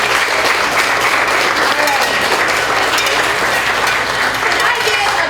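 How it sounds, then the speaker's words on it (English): An audience applauds after a kids' drama performance, a loud, dense, steady roar of clapping that fills the whole stretch without pause. "Can I get a big round of applause for all of these people?"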